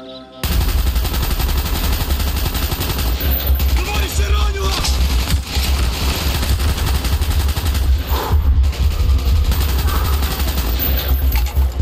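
Loud, sustained automatic gunfire from Call of Duty Black Ops, heavy continuous bursts rattling close up with crashes and mechanical clatter mixed in for nearly the whole stretch.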